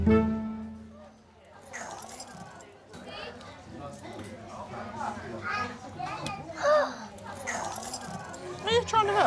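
Bunch of nanny's keys jangled by a three-year-old boy in a hospital emergency department, bright metallic clinks scattered among children's chatter and an adult talking throughout.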